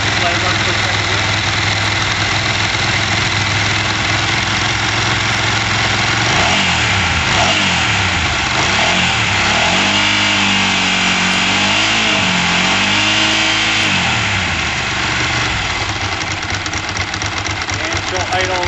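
A 2001 Ducati 900 Monster motorcycle idles near 1,000 RPM, a steady loud throb running the whole time with slight rhythmic wavering midway, heard close up and with no speech over it.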